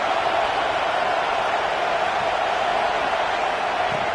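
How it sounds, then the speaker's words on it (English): Football stadium crowd roaring early in a game, a dense, steady wall of loud, distant cheering and hubbub with no breaks for the whole stretch. "Listen to the crowd energy here in the early going."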